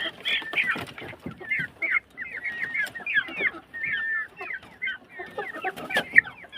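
A rooster clucks in quick, repeated bursts close by, the calls coming steadily with brief pauses and a few louder squawks.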